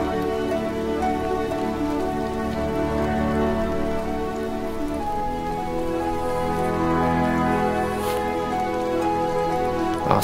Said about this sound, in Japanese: おお、雨のイベントが。